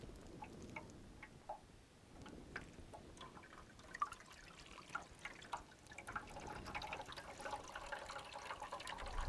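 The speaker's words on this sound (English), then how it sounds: "it works out to be about a half inch of rain that I pour on each field" Faint trickling and dripping water is poured from cups onto a tabletop rainfall simulator, with scattered small splashes and soft patters throughout.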